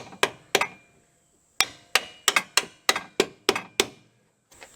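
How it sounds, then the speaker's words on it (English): About ten sharp metallic hammer taps driving a bolt through a front control arm on a 2005-2009 Subaru Outback, close and fairly loud, in quick uneven bursts with short pauses between groups. "We'll just use a hammer and tap it through a little bit."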